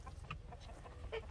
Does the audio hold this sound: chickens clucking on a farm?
yes